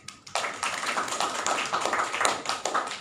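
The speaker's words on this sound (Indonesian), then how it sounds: "berikan tepuk tangan untuk jawaban dari Mbak Ina" A panel-discussion audience claps after a speaker's answer, a burst of quick overlapping hand claps starting abruptly and holding steady, moderately close, with no voices over it.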